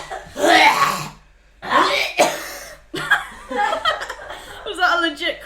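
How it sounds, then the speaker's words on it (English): Someone coughs and chokes in harsh, throaty bursts, close and loud, with breathy laughter and chuckling mixed in at the end. "Was that a legit cough? Yeah, I choked on myself."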